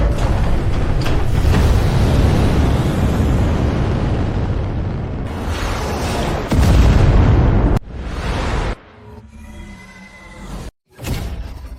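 An animated missile barrage fills the scene with loud, continuous rumbling explosions and booms. Whooshes and bursts run one after another before the sound breaks into a few separate, sharper blasts near the end.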